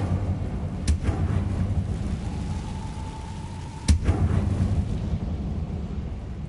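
An Incendio fire spell is cast in a video game. It gives two sharp, booming bursts a few seconds apart, with a thin rising whoosh between them, over a steady rumbling, crackling bed of ambient game noise.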